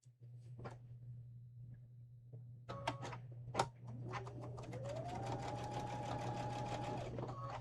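A sewing machine stitches a scant quarter-inch seam through white-on-white fabric: a few clicks and short bursts, then the motor whirs up to a steady, close, continuous run of rapid needle strokes.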